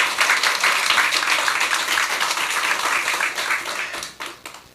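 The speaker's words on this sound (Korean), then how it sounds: "우리 모두 서로 경외하며 하나님께 영광의 박수 드리겠습니다" Congregation clapping together during a Korean Sunday church worship service: loud, dense, sustained applause filling the room, thinning and fading out toward the end.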